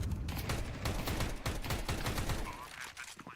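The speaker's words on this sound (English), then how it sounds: "He's shooting that Tech 9 Rapids mode." Rapid bursts of Tech 9 pistol fire in a Counter-Strike match, sharp overlapping shots in a fast fusillade with game noise, fairly close and loud, fading near the end.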